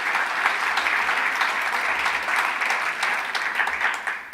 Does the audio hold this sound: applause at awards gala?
yes